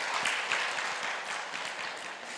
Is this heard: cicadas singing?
no